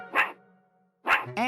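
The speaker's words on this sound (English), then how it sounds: "A barking dog?" A dog barks twice, close and loud, with a long resonant tail after the first bark and a short whimpering note following the second.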